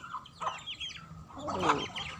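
Chickens and pigeons in a backyard coop give a couple of close clucks and squawks, with a brief soft murmur of a voice nearby.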